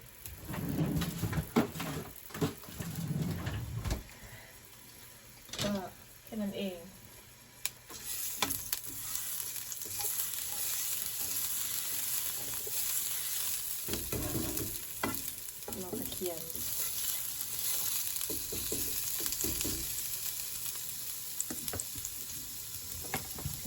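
Garlic sizzles and fries steadily in a pan, with intermittent scraping and stirring clatter over a continuous hiss.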